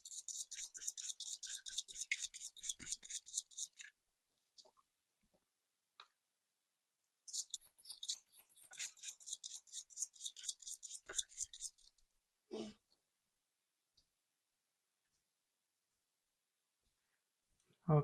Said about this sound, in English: I'm shuffling 3 times and I'm cutting the pile in 3.